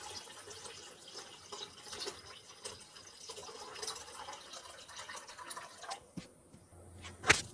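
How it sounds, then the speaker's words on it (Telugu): Tamarind water is poured steadily into a pot, a soft continuous splashing trickle that stays faint, ending with a few drips. "ఇలా మనం చింతపండు పులుపు వేసేద్దాం"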